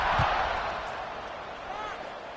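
A college football video game, with a stadium crowd giving a steady, distant roar of cheering that carries on without a break under a commentator's voice.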